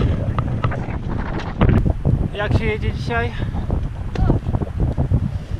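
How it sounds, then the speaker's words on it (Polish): Steady wind buffeting a microphone while cycling on an asphalt road in the Pamir's Wakhan Corridor, a low rumbling roar that runs throughout beneath a man's speech. "Mamy wiatr w plecy"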